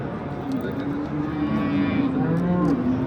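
A cow moos in a long, low call amid a busy crowd murmur at an outdoor livestock market in Bulungur, Uzbekistan, with other faint animal sounds in the background.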